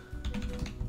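Rapid computer keyboard typing sounds close up as a dense run of keystrokes over a low steady hum, with no voice over it.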